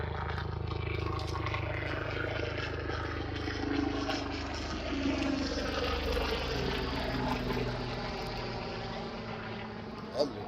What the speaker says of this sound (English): That looked like one of them life flight helicopters there.